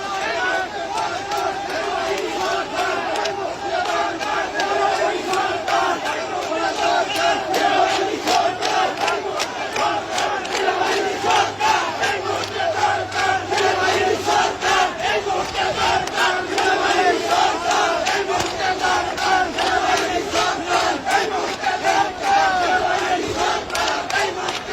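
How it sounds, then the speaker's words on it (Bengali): A large crowd in a Bangladesh street protest demanding army rule chants slogans in unison, a loud, continuous roar of many voices with a steady rhythmic pulse throughout. "রাস্তায় নেমে বাংলাদেশি আমজনতা সেনা শাসনের জন্য সমবেত কণ্ঠে স্লোগান দিতে শুরু করেছে"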